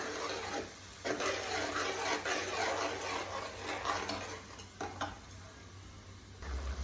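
Onions roasting in a pan over a medium flame, stirred often, with a dense close sizzle broken by scraping and clattering utensil strokes against the pan throughout.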